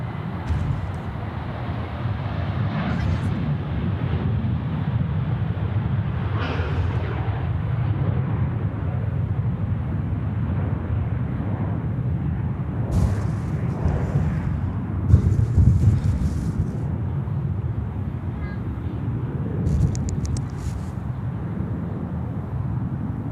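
A UPS cargo aircraft at Sydney Airport rumbles with a low, steady jet roar, broad and distant, lasting throughout with wind buffeting the microphone.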